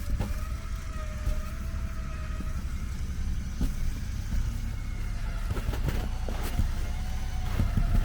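An off-road vehicle's engine idling and rumbling low during a trail recovery, a steady mechanical drone with faint clicks and knocks, swelling slightly toward the end.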